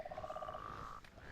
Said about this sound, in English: Yes, we have baby toads!